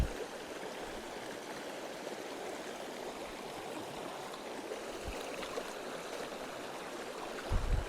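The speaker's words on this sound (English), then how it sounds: "That is rushing water." Rushing water pours steadily and fairly close, a constant broadband roar with no voices and a brief thump near the end.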